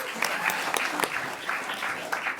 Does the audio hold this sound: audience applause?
yes